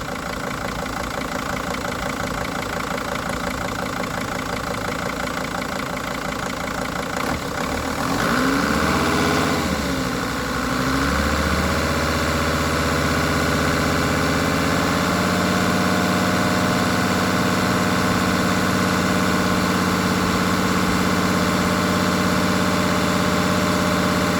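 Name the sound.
2003 Sprinter van engine revving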